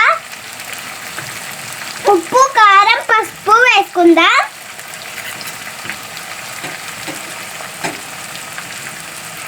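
Capsicum fry curry sizzles steadily in a pan as it is stirred, a constant frying hiss under a few seconds of speech.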